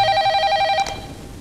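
A telephone ringing indoors, a bright electronic trill heard once and then cut off, with no talk over it.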